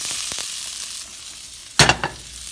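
Ground turkey with zucchini and squash sizzles steadily in a hot pan, a continuous hiss broken by a burst of louder crackling as the vegetables hit the oil.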